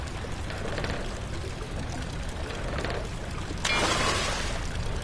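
Water runs and spills from a loose, leaking pipe in the horror game Amnesia: The Dark Descent, a continuous soft trickle that swells into a louder rush near the end, with no voices.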